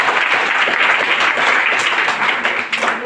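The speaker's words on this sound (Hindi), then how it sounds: "एक बार जोरदार ताली" Loud, dense applause from a seated audience, a continuous wash of many hands clapping close by for about three seconds with no talk over it.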